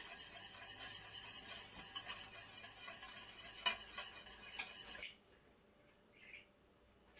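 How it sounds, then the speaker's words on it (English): Whisk stirring olive oil into a honey, salt and pepper dressing, producing quick rhythmic scraping and swishing strokes that stop after about five seconds, leaving near silence. "Then I'm going to whisk in about 2 tablespoons of olive oil."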